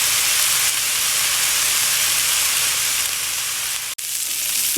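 Pork ribs fry in a pan, giving a steady, close, loud sizzle with an even hiss that briefly dips before resuming.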